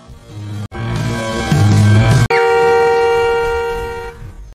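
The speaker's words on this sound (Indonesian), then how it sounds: "Saat sebuah klakson terdengar, Mary panik dan berdiri begitu pula relik." A loud car horn blares in long sustained honks, one after another with brief gaps, close and dominant.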